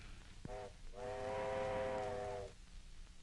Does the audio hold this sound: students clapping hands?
no